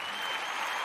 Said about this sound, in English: He gave himself a round of applause.